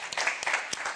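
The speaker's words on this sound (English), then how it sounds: "Give me a round of applause, please." A crowd claps in applause at a hair masterclass, a dense, steady patter of many hands lasting the full second.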